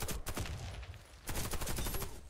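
Gunfire in the shooter video game Warface comes as rapid bursts of close, sharp shots. Two clusters of fire are separated by a short lull.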